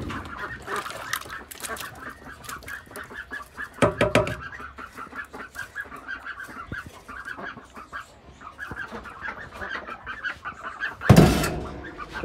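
Ducks and chickens at feeding time in a home poultry setup, with close honking, quacking and clucking calls scattered throughout and a sharp louder burst near the end.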